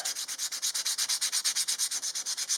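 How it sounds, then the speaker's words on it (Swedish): A wooden knife handle is sanded by hand with 120-grit sandpaper. Fast, even back-and-forth strokes rasp at close range, about eight per second, with no talk. "Nu har jag ett 120 sandpapper här som jag börjar med då. Och putsar."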